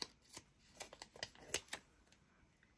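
A cluster sticker peeled off its backing sheet up close, a series of faint crackly rips and ticks in short bursts over a few seconds.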